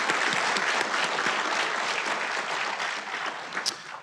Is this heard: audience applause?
yes